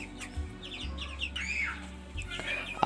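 Color bantam chickens cluck and chirp in short, scattered calls close by, with a low hum underneath and a sharp louder burst at the very end.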